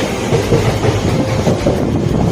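A passenger train rolls along the rails, heard from inside a compartment near the locomotive: a steady, loud rumble with rhythmic clickety-clack from the wheels throughout.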